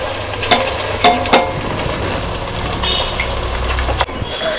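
Ground masala frying with onions in hot oil, a steady low sizzle with a few sharp clinks and scrapes from stirring, close and alone without talk.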